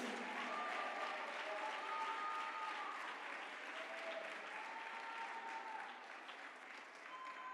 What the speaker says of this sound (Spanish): Yo no sé si usted puede aplaudir en esta hora.